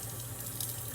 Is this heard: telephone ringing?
no